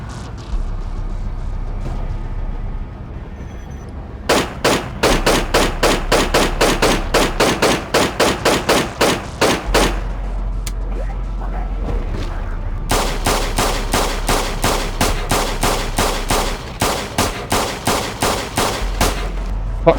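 Video game gunfire in Project Zomboid as a player shoots at mutant zombies: two long bursts of rapid, evenly spaced loud shots separated by a short pause, with no voices over them.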